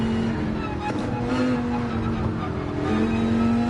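A race car engine in Gran Turismo 7 holds a steady, droning pitch through corners, with small shifts up and down as it powers on, loud and continuous with no pauses.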